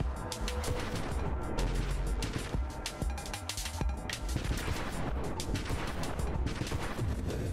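Rockets firing in the space shooter Nova Drift, a dense continuous barrage of blasts and explosions layered over game music, loud and unbroken throughout.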